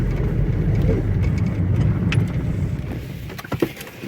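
A car drives along a road, steady low rumbling engine and road noise heard from inside, with faint light clicks and rattles near the end.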